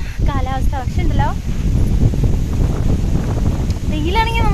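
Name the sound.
wind and light drizzle outdoors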